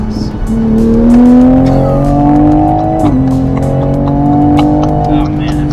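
A 2020 Toyota Supra engine revving under acceleration after a power cycle with a plug-in tune, its tone rising in two long pulls with a short break between, loud and close, with voices heard alongside.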